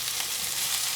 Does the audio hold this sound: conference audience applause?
no